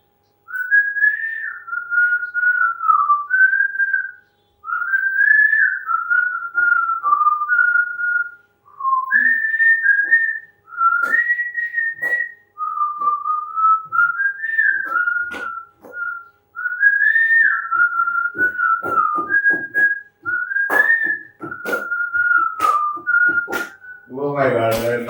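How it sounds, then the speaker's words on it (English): A person whistles a melodic tune in clear, bright phrases with short pauses between, close and fairly loud, ending with a faint thump. "I'll whistle for you. Whistle for you. I do a whistling."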